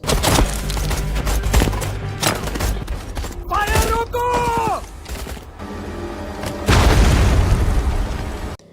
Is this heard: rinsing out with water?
no